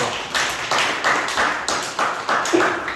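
Clapping in congratulation at a middle school church worship service, a small group applauding in bursts that rise and dip in a loose rhythm, close and fairly loud with no talk over it.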